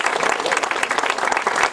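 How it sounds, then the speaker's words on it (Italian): Crowd applause at an outdoor inauguration of new sundials in Aiello, honoring the house owner; dense, steady clapping from many hands, close and fairly loud throughout. "Allora un applauso"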